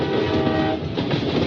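A loud railway train horn sounds in a radio safety advertisement about drivers racing trains at rail crossings, blaring steadily over the rumble of a passing train for the whole short stretch.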